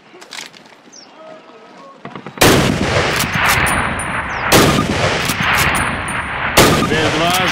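Springfield rifle fired at a target in the Call of Duty video game: after a quieter stretch, several loud, sharp shots ring out at intervals, each with a ringing tail.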